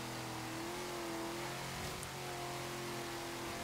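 A 1972 Chrysler VH Valiant Charger R/T with the E49 six-cylinder engine in Forza Horizon 3, revving high with a steady, rising and falling engine drone, heard alone at a moderate, even level.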